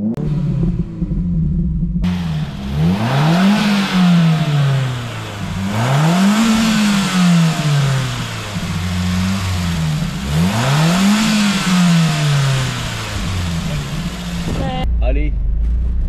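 Ford Focus RS engine revving hard, heard close up. Three sharp rises and falls in engine pitch come one after another, with a steady rumble between them and people talking underneath.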